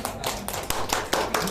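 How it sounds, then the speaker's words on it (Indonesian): Hands clapping in a short burst from an audience gathered for a talk on finance calculations, a handful of sharp, uneven claps close by with scattered, thin applause. "ayo kasih tepuk tangan yuk"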